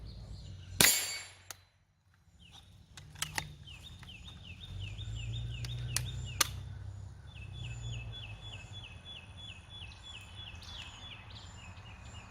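GSG-5 .22LR rifle shooting Blazer rounds during a reliability test: one loud sharp shot near the start, then a few fainter clicks and clacks of the action with occasional chirpy squeaks over a low rumble.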